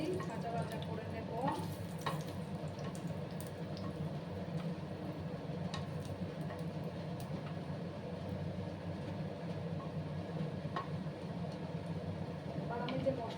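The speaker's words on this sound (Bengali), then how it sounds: "লঙ্কাকে একটু আমি ভাজা ভাজা করে নেব।" Dried red chili with bay leaf, cinnamon, peppercorns, cardamom and cloves sizzles softly in hot oil for a vegetarian malai paneer, a faint, steady frying hiss dotted with small stirring clicks.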